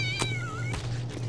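A cat in a video game lets out two meows, a drawn-out, wavering cry followed by a shorter one, close and clear over a low game hum.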